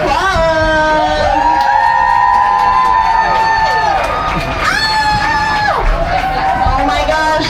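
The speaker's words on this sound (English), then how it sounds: "let's hear a round of applause" Cheering crowd at the final-day Planet Watch animation experience at Disney's Animal Kingdom, loud whoops and shouts rising over amplified music with sustained voices throughout.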